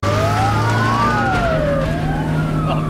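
Police car siren wailing close behind a moving car on an open road, rising and falling sweeps over steady road and engine rumble, loud and continuous with no talking.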